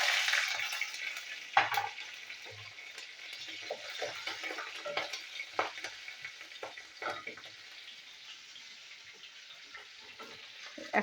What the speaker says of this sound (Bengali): কড়াইতে আমি তেল দিয়েছি, অল্প করে তেল দিয়েছি, দিয়ে এবার 5 ফোড়ন আর কাঁচা লঙ্কাটা ভেজে নেবো